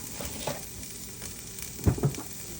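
Carrots sautéing in a pan, a soft, steady background sizzle with a few light clatters of stirring near the end.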